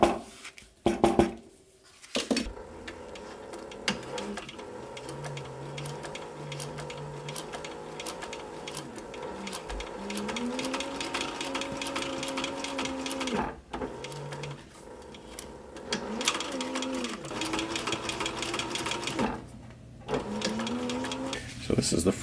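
A sewing machine stitching a fabric sun visor, running in long stretches of fast mechanical whirring with brief pauses and pitch shifts, while a person talks intermittently over it.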